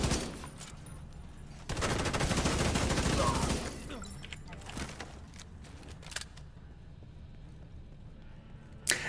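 Gunfire from The Division during casual PvE farming: a dense burst of rapid automatic fire lasts about two seconds, then quieter game effects and scattered clicks continue, with a louder hit near the end.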